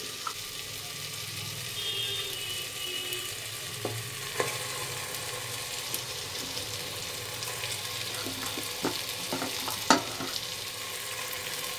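Meat with spices frying in a pan for a Kolkata home curry, with a steady low sizzle and occasional scraping stirs and clinks, fairly quiet and without talk.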